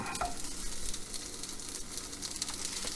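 Gyro meat frying in light-tasting olive oil in a pot gives a steady, close crackling sizzle with scattered pops and no talk.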